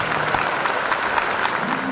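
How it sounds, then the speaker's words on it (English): An audience at the Superintendent Honors Music Festival 2022 at Miami High School applauds, a brief, even wash of many hands clapping at moderate loudness without any voices on top. "you can clap."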